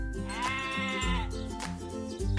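A cartoon sheep in an animated children's story gives a loud, close, wavering bleat, followed by a second shorter bleat, with soft musical tones underneath.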